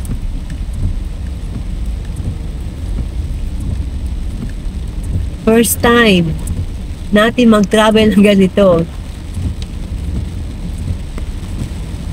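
Steady, dense hiss of a heavy rainstorm pours down throughout, in Daraga, Albay, Philippines, with people talking briefly partway through.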